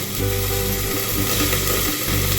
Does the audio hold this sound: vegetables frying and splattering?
yes